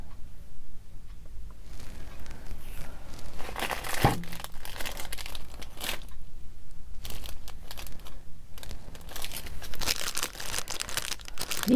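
Paper flowers being handled up close on a craft table, continuous loud crinkling and rustling with bursts of sharper crackle and short pauses, no talking.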